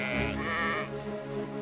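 A sheep in the video game Valiant Hearts lets out a long, wavering bleat, loud and close, with a tremulous pitch that fades as the call ends.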